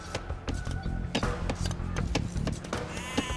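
Sheep in Age of Empires II bleating several times in quick succession among clicks and game effects, fairly close and clear with no talk.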